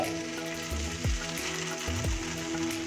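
Chopped taro leaves (kochu shak) frying in their own released moisture in a pan, a steady close sizzle with a couple of soft stirring scrapes, no voices.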